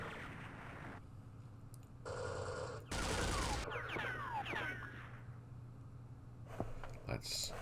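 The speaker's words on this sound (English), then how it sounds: "Let's shoot at them." Gunfire from the Vietnam War strategy game Campaign Series Vietnam, in a Battle of Dak To scenario: a couple of short, dense bursts of shots, fairly quiet, followed by fainter crackles, with someone talking over the game.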